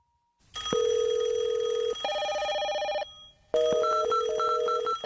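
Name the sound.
telephone ringing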